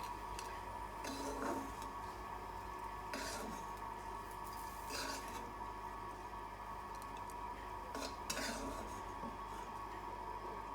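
Fried food, such as Sindhi-style fried vegetables, is lifted out of a pan into a serving dish, with a handful of spaced metal-on-cookware clinks and scrapes over a steady low kitchen hum.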